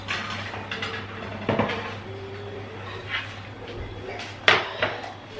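A baking pan of homemade Jamaican patties being pulled from a home oven, with a few sharp metallic clanks and knocks over a steady low kitchen hum.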